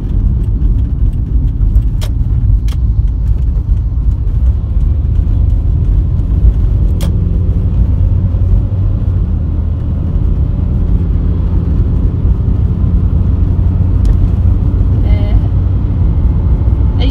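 A car engine hums and builds steadily while accelerating to overtake a lorry, under heavy road and wind noise, droning continuously from inside the vehicle.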